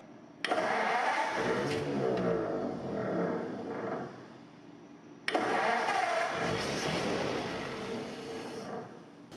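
A 1939 Ford truck barn find cranking on its starter in two long bursts, the engine turning over slowly and laboriously without catching, with a pause between the attempts.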